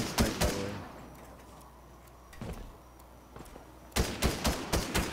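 Gunfire in a multiplayer team shooter match, with sharp bursts of shots near the start, a single crack mid-clip and a rapid volley of several shots at the end, separated by quieter game ambience.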